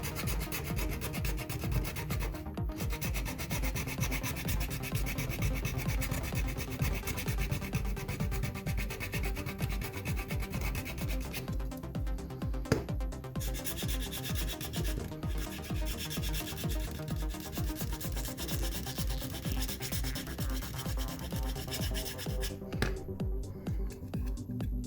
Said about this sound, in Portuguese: Aqui eu vou usar essa lima agulha aqui